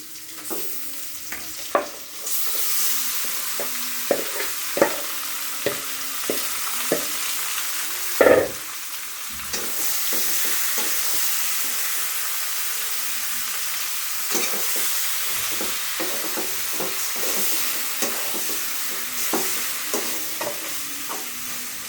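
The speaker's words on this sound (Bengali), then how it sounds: "পেঁয়াজটা একটু ভেজে নিচ্ছি। এই পর্যায়ে আমি মাখানো মাংসটা এখানে দিয়ে দিব।" Marinated duck meat frying with onions in a pan gives a steady, close sizzle throughout, broken by frequent scraping clicks of a stirring utensil and one louder knock near the middle.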